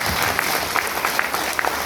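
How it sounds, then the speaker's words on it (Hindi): An audience applauds at a business seminar, dense, even clapping that fills the whole moment at close range and high volume with no one speaking over it. "तो मैं चाहूँगा उनके लिए एक जबरदस्त ताली।"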